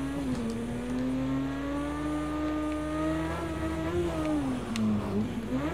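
An Aston Martin racing on a dirt track in Project Cars 2, its engine a continuous close, loud drone with pitch rising and falling as it accelerates and shifts, alone without talk.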